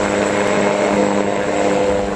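Iran's large Gaza military drone flies overhead with a continuous, loud propeller engine drone, a steady buzzing hum that holds evenly for the whole stretch without any voices.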